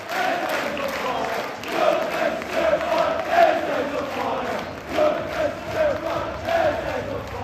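Crystal Palace football fans in the away end of a stadium sing a sustained chant together, a loud, steady wall of massed voices with rising and falling melodic swells throughout.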